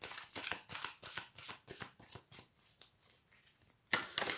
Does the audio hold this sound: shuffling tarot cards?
yes